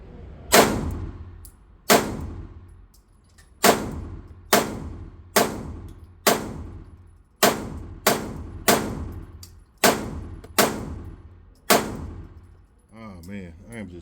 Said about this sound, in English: I am just super comfortable shooting this gun.